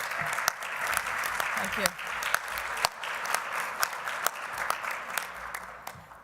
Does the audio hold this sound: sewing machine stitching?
no